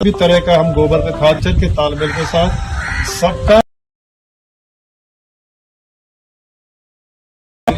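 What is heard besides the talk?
birds calling in a farm field, crows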